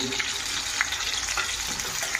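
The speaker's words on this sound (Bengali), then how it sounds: "ডিম ভাজছি" Eggs frying in a pan, a steady crackling sizzle with small pops and a stir or two, heard alone at moderate volume.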